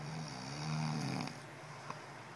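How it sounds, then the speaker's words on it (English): A person snoring loudly, a deep rough rasping snore that swells and fades alone, heavier in the first half. "Snoring loudly. Making loud noises with his snoring."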